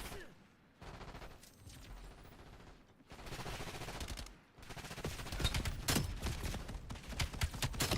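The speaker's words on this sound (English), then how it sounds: "I'm shooting some bots right now" Rapid automatic gunfire while shooting bots in a video game comes in repeated bursts, close and loud, with brief pauses between volleys and louder sustained fire toward the end.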